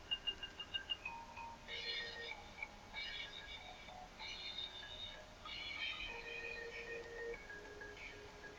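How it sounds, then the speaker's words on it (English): A mobile phone goes off with a melodic ringtone of repeated tonal notes in short phrases, preceded by a quick series of soft taps, moderately loud and steady. "sorry, my phone's going off."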